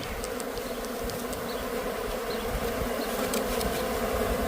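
A dense swarm of about 100,000 honeybees fanning at once hums in a steady, loud, continuous drone, close and unbroken, with no voices.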